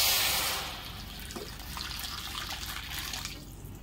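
Hot water pours into an oiled kadhai holding soaked sabudana. A brief close rush of water at the start settles into a quieter, steady bubbling wash.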